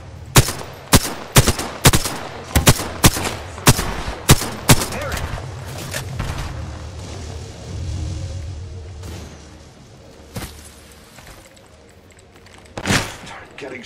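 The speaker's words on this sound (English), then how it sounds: "The enemies are shooting at me." Rapid gunfire in Apex Legends cracks out as a run of sharp, evenly spaced shots early on, then thins to scattered distant pops and one louder late shot.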